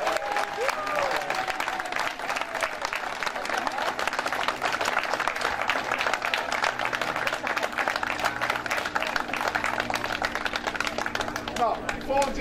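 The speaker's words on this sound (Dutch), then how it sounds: "een groot en luid applaus" A crowd gives loud, sustained applause for the runners bringing the liberation fire to Medemblik, dense rapid clapping with a few cheers continuing steadily for the whole stretch.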